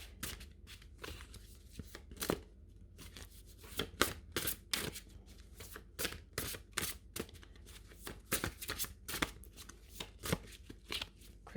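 Tarot cards shuffled by hand at a reading, a rapid series of crisp riffling bursts repeating steadily and close for the whole stretch, with no talk over them.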